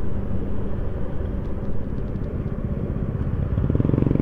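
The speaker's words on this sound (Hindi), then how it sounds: "टोटल जो है 8 बाइक चल रही है," A group ride of eight motorcycles moving together, their engines blending into a loud, continuous close rumble with a rhythmic throb that grows stronger toward the end, with no talking.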